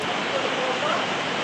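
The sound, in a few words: heavy rain and rushing stream water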